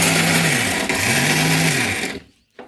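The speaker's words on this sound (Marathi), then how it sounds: "आणि इथे आता मसाला वगैरे काढायचं काम चालू केलेलं आहे." A mixer grinder whirs loudly and steadily, grinding a masala of roasted coconut and peanuts in a village kitchen, then cuts off abruptly near the end.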